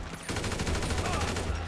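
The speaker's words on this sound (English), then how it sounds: "let me pull out an assault rifle here" Rapid assault rifle fire in GTA 5, a dense continuous burst of shots that starts abruptly and runs steadily at close range.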